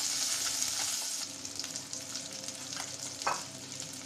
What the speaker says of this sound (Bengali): বন্ধুরা মাছগুলো ভাজা হয়ে গেছে তুলে নেব